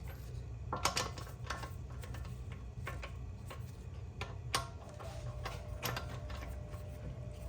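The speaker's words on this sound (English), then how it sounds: "as you tighten this even tighter, use the socket, you can see the wheel centering itself" A socket wrench ratchets on the wheel lug nuts of a Tesla Model Y, giving quick runs of small mechanical clicks in an irregular rhythm, close by and quiet, with no talk.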